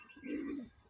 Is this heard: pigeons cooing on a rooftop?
yes